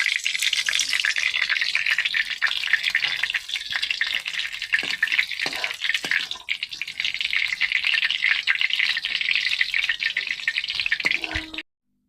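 Onions sliced for birista deep-frying in hot oil for a mutton biryani, a steady dense sizzle and crackle running without pause, close and loud, with occasional stirring clinks, then cutting off abruptly near the end.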